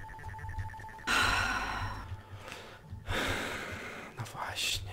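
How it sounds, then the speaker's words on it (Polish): A pet dog snoring nearby in heavy, breathy snorts, each one a long rasping inhale, with one loud burst and another a couple of seconds later, set against a faint electronic tone. "Jezu, mój pies jak chrapie"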